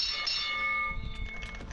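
A bell rings to start a round in a video game, one clear ringing tone that fades and gives way to soft rustling.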